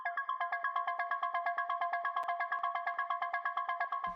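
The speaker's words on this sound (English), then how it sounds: "All this is just a square wave going into a low pass filter." An Ableton Operator square wave runs through an enveloped low pass filter, giving a rapid, evenly pulsing melodic sequence of short bright blips, steady and alone.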